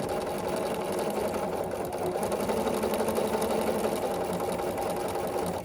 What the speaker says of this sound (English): we're gonna sew on the line here between like 1 and 2 and 3.